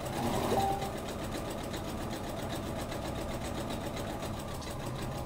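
Sewing machine running steadily while stitching a rolled narrow hem in straight-stitch mode, a continuous close mechanical whir with a fast, even needle rhythm and a slightly louder start.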